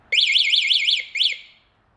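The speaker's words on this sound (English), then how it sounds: "the alarm goes off when you push the lock button to turn it off" A Delfast e-bike's alarm blares when its lock button is pressed to switch it off: a loud, rising-and-falling electronic siren warbling five times in quick succession, a short pause, then one more warble before cutting out.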